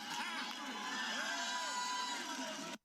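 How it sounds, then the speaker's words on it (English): A crowd cheers and whoops in one continuous, fairly faint swell of mixed voices lasting a few seconds, then cuts off abruptly. "Everyone's cheering like, whoa!"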